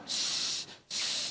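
A voice imitates a hissing tap that gives no water, producing two long, loud breathy hisses separated by a short pause.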